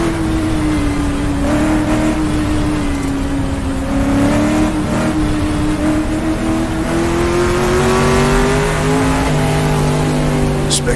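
Engine of a 1966 sports car racing the Targa Florio in the GTR2 video game drones loud and steady, its pitch sliding gently up and down through gear changes across eleven seconds of continuous sound.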